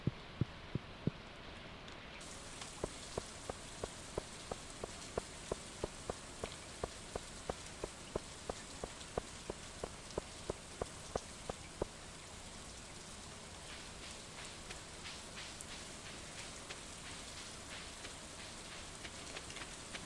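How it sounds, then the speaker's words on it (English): Rain falls in a farming video game as a soft, steady patter, with a regular run of light ticking clicks through the first half and no speech. "The rain sounds in this game are nice."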